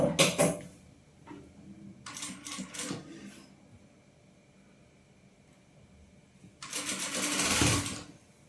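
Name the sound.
sewing machine stitching a frill kurti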